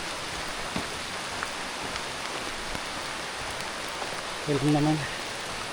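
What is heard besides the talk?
heavy rain falling outdoors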